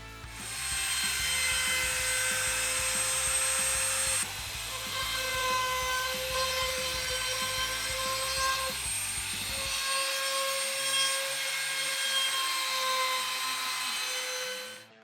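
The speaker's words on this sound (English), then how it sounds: "I'll run around all the edges with a 3mm or 3/16 round over bit, just to soften all those blocky edges" A router fitted with a 3mm round-over bit whines steadily as it rounds over wooden edges, a sustained high motor tone that shifts in pitch partway through as the cut changes, with no voices.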